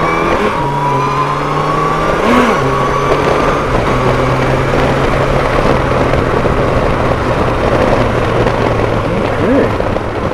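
A Yamaha FJR1300AE motorcycle with a clutchless gearbox accelerating hard, its engine note rising and holding steady under heavy wind roar, with a brief pitch dip midway as it shifts and pulls on.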